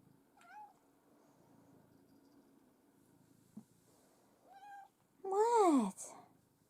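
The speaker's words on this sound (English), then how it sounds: "Oh, I've got a cat." A house cat meows several times, short mews early and midway, then one louder drawn-out meow near the end, in a quiet indoor room.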